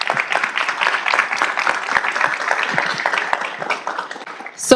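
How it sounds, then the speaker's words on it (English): A dense, steady round of audience applause fills a Montebello city council meeting during a centennial celebration for California Water Service, with many hands clapping at once in a continuous patter. "So please, a round of applause."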